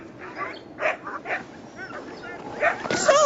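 Sled dogs at a dog sled race bark, yip and whimper in overlapping bursts, fairly close and excited, with a busy outdoor crowd murmur beneath them.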